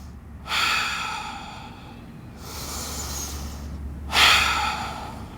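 Slow, deep breaths during a yoga downward facing dog pose: two drawn-out airy exhales and inhales, close and fairly soft, separated by brief quiet pauses.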